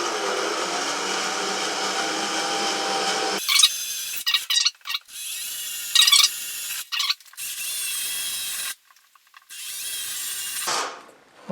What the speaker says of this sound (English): Okay, so now our holes are drilled.